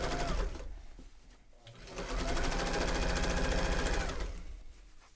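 Serger sewing machine stitching a knitted cake cozy, a close rapid mechanical whirring burst, a brief pause, then a longer continuous run of fast rhythmic stitching that winds down.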